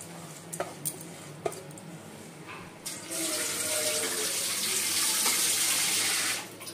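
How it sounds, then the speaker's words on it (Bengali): Water pours steadily into a cooker holding dalia, lentils and vegetables, a few light clinks of utensils first, then a loud continuous close gush for several seconds that stops abruptly. "জল শুদ্ধ ডালিয়া ডাল সব কিছু দিয়ে দেওয়া হচ্ছে।"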